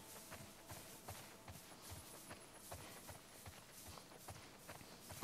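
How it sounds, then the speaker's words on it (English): Horse hooves clip-clop in The Last of Us Part II, a faint, steady walking rhythm of hoofbeats running throughout under a low ambient bed. "Horse."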